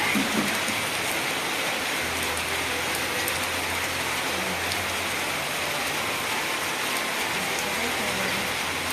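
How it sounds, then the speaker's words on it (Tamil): Heavy rain falls steadily on a village, making a dense, even hiss that stays constant throughout with no pauses or voices. "சரியான மழைங்க முடிஞ்ச அளவுக்கு விழுக்குது"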